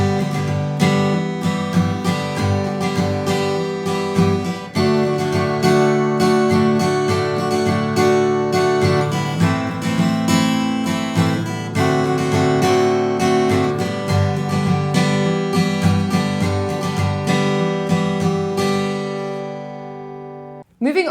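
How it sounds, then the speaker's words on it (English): Guitar strums chords continuously through the instrumental section of a song, close and full, with dense rhythmic attacks for about twenty seconds before stopping abruptly. "this is what the instrumental section is going to sound like."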